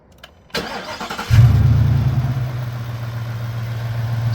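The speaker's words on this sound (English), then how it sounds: "Let's do a crank test. Go ahead and start it" A Ford F150 with a battery problem, the engine cranking briefly and then catching, settling into a steady, close idle that runs to the end.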